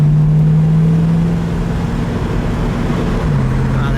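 A 1971 AMC Hornet SC 360 with its stock mufflers, a steady, loud, low exhaust drone holding one pitch while cruising, with a slight dip near the end.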